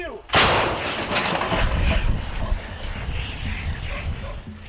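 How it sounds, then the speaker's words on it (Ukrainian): A single loud artillery blast booms close by on a war front line, followed by a long rumbling echo that slowly fades. "Постріл!"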